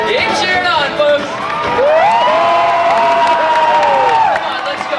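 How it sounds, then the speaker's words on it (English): A theme park show crowd at Universal Studios in Los Angeles cheers and whoops loudly, with children shrieking. Rising, excited voices carry through several seconds of continuous noise. "Keep cheering on, folks."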